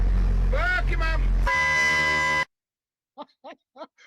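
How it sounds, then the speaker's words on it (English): Voices talking, then a sudden loud, sustained blast from impact train horns with a brassy, steady tone lasting about a second before cutting off, followed by a few faint short sounds. "They're called impact train horns."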